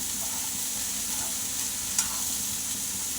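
Onions frying in a pan while being stirred give a steady, close sizzling hiss with no talk, and a brief scrape stands out near the end.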